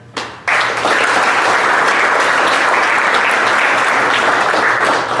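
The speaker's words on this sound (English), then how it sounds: "So I want to give everybody a round of applause, right?" Loud, dense applause from the audience at an ITA meeting, starting with a brief burst and then swelling into sustained even clapping that continues to the end.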